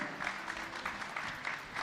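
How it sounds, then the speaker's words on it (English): Steady applause from a crowd at an awards ceremony, many hands clapping at once in a continuous wash. "let's give him a big round of applause once again"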